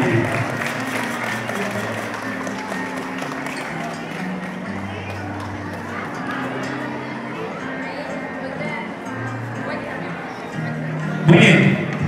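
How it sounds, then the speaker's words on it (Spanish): Applause and crowd noise at a primary school event in Tuxpan with costumed students: continuous clapping under a busy crowd, with a brief louder burst near the end. "¡Que se escuche el aplauso!"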